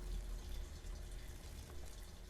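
A toilet flushes in the Butcherman horror video game, heard as a faint, steady rush of running water that holds at a low level throughout with no speech over it.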